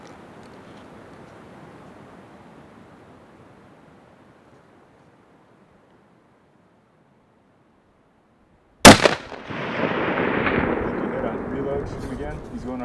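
A single loud rifle shot cracks out during a spring bear hunt on Idaho public land, sharp and close, followed by a lingering rumbling echo, after several seconds of faint quiet ambience.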